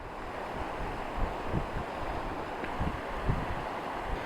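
Cold stream water rushes across a mountain road water crossing in Himachal's Spiti region, a steady broadband wash with faint gusty wind noise and no voices.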